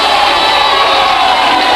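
Basketball crowd in a high school gym roaring and cheering after a blocked shot, a dense, loud, sustained wall of voices with no break.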